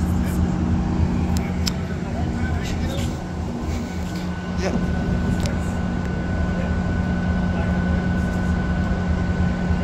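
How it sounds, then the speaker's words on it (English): A Metrolink commuter train pulling out of Oceanside Transit Station northbound, its steady low rumble and engine drone heard from the platform with faint rail squeals, continuous for about ten seconds. "this Metrolink should be departing at 2:18 p.m."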